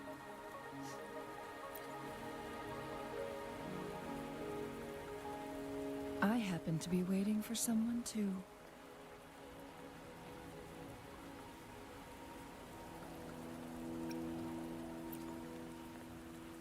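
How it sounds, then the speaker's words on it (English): Steady rain falling in the video game Wuthering Waves, a soft constant patter under a sustained musical drone, with a brief burst of chimes midway and a line of spoken dialogue. "Are you trapped here by the rain?"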